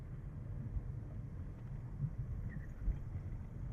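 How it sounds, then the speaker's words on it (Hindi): Cold wind blows steadily through the Himachal hills on the drive toward Haripurdhar, a low continuous rumble with gentle gusts and faint bumps, with no talking. "ठंडी हवा चल रही है।"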